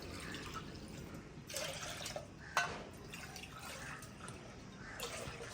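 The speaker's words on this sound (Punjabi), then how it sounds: "ਦੁੱਧ ਲੈ ਕੇ ਆਈ ਆ ਤੇ ਇਹਦੇ ਚ ਪਾਵਾਂਗੀ ਪਾਣੀ" Water is poured into milk in a pot beside a village cooking fire. Soft, intermittent splashes and drips rise and fall over a low background wash, fairly faint, with no clear voice.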